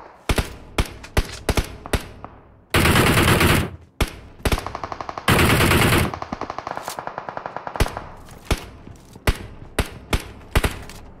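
Video-game gunfire comes from a building: sharp single shots, then two long, loud automatic bursts and a rapid stuttering volley, with scattered shots echoing before and after and no talk.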